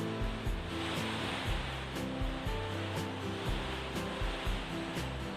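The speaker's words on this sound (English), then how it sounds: "It's absolutely pouring down." Heavy rain pouring down outside in a garden, a loud, dense hiss of drops with scattered louder taps and patters on nearby surfaces, continuous for the whole stretch with no talking.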